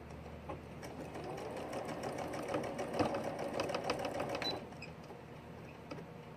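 A sewing machine double-stitches the thumb of a glove, running in a fast, steady mechanical whir for about four seconds at close range before stopping abruptly.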